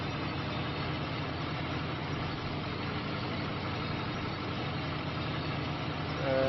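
A tractor engine in Farming Simulator 25 runs steadily during spring field work, a constant low droning rumble at even volume with no pauses, swelling slightly right at the end.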